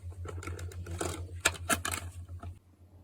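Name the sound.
plastic Coke bottle being played with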